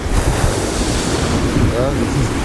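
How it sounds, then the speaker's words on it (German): Ocean waves rolling in at a beach on the Egyptian Red Sea coast near El Quseir, a continuous loud surf wash mixed with heavy wind buffeting the microphone. "die Wellen ziehen dich nach außen"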